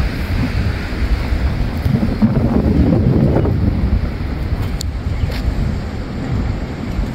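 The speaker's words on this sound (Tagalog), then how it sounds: "Super lakas ng hangin dito guys." Powerful outdoor wind roars into a microphone as a continuous, loud low-frequency rumble that swells in the middle and keeps buffeting throughout, with no talking.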